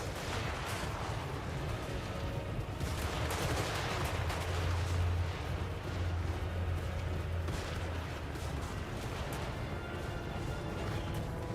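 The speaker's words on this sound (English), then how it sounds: "They're shooting there." Battle gunfire from the video game Total War: Warhammer, a continuous distant din of volleys and crackling shots with heavier booms swelling and fading over a low rumble.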